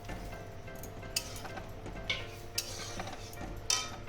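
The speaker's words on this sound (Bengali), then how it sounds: "এবার আমি এর মধ্যে ভেজে রাখা উচ্ছেটাও দিয়ে দিচ্ছি।" Fried bitter gourd going into a pan of dal with leaves and being stirred, heard as a few light metallic clinks and scrapes over a low steady kitchen hum, close and fairly quiet.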